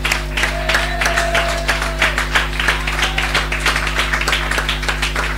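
A church congregation applauding, a steady run of rhythmic hand claps from a crowd over a constant low electrical hum, moderately loud and without speech.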